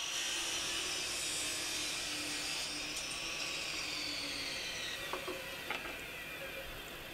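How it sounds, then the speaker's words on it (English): A saw runs steadily, cutting mitres on wooden pieces for a jewelry box with a chaotic-patterned lid. The close, continuous high-pitched whine holds for several seconds, with a few faint clicks near the end. "And cutting the miters now."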